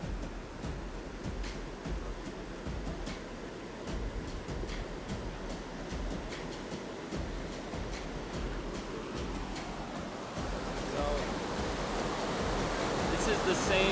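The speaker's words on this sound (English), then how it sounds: "the stream that had been an easy crossing a few days ago had swelled with the rain." A rain-swollen mountain creek on Mt. Mulanje rushes continuously with a broad, steady roar of water that grows slightly louder toward the end, as if coming closer.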